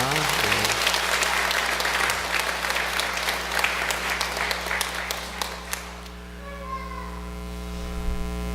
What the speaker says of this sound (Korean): 이 가정을 위해서 박수 부탁드립니다.